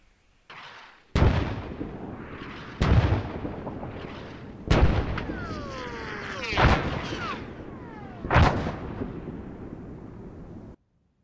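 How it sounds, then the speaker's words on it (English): Artillery barrage in Arma 3, with four heavy booming impacts spaced a couple of seconds apart, each followed by rolling rumble and whistling debris, loud and fairly close. "and now wait for artillery."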